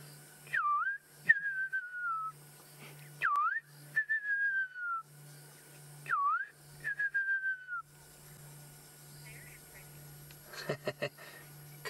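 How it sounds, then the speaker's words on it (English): A fiery-necked nightjar calls at night: three clear, liquid whistled phrases, each a quick rising note followed by a falling, trailing series, repeated at steady intervals over a low hum, with faint rustling near the end. "That's the fiery neck nightjar, everyone. It's a beautiful, beautiful sound."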